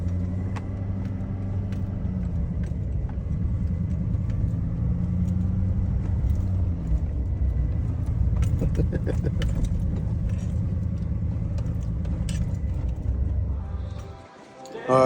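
A 2017-19 Chevy L5P diesel truck engine idles while warming up, a steady low rumble close by with faint clicks and rattles over it, cutting out briefly near the end.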